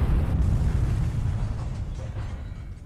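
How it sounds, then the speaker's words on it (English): A ship blows up in the naval combat game War on the Sea, giving a heavy, rumbling low-end boom that is loud at the start and slowly fades over about three seconds, with no talk over it. "One more explosion should do it."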